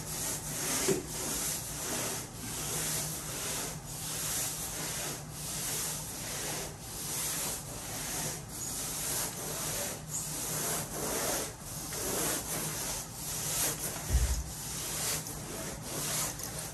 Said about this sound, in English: now we're gonna rub it in just a little bit